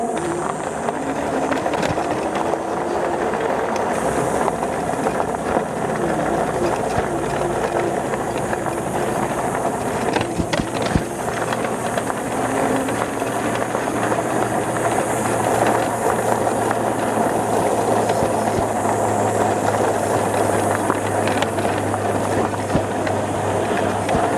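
A Hovsco HovGTRS e-bike on stock suspension rides over bumpy terrain, giving a steady, close rattling rumble with a hissing undertone and scattered knocks that carries on without a break.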